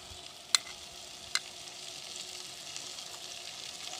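Spiced potato masala with fresh coriander being stirred in a pan, a low steady background hiss broken by two sharp scrape clicks of the spoon early on, quiet and close, no talking.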